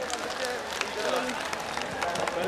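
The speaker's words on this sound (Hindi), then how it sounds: "अगर साथ देना चाहते हैं तो एक बार दोनों हाथ ऊपर करके ताली बजाकर बताइए" Crowd clapping hands at a political rally at the Maghi Mela in Muktsar, a dense steady patter of many hands, fairly loud and continuous, with voices and crowd noise mixed in.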